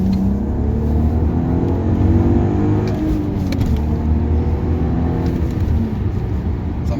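Audi A3 3.2 VR6 quattro, a stock naturally aspirated petrol V6, pulls hard under acceleration with a loud, steady engine roar and rising pitch heard from inside the car, with no talk over it.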